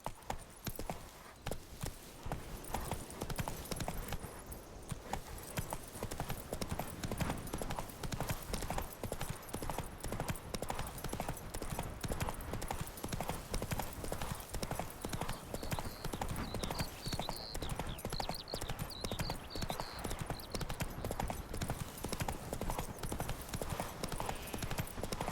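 Roach the horse gallops in The Witcher 3, a rapid continuous clip-clop of hooves over about twenty-five seconds, fairly faint, with a brief whinny-like tone later on.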